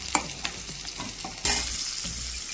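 Gongura greens frying in a pan, a soft sizzle with scattered clicks and scrapes as the leaves are stirred and flipped, then a brighter burst of sizzling as they settle, close and fairly quiet.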